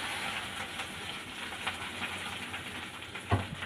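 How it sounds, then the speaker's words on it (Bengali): Bottle gourd leaf fritters stuffed with dried fish mash hiss steadily in hot oil, a dense continuous sizzle with faint bubbling, close and moderately loud, with a brief sharper crackle near the end. "গরম তেলে দিয়ে দিলাম।"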